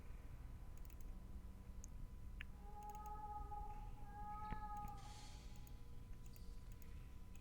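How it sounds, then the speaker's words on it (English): A cat meowing in the video game The Last Door, a faint drawn-out tonal mew rising and falling twice over a quiet low ambient hum, with scattered soft clicks around it. "Definitely sounds like a cat now."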